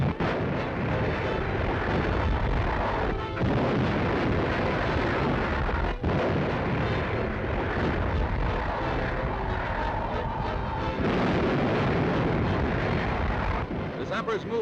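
Dynamite charges laid by commando sappers blow up a Nazi storehouse, a dense, continuous roar of blasts and rumbling debris filling the scene with a sharp crack near the middle, under a commentary voice.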